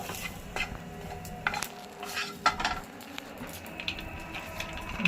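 Ginger and garlic roasting in a pan for Konkani-style stuffed eggplant, with quiet scraping and stirring over a faint, steady sizzle, plus a few light clinks of a utensil against the pan.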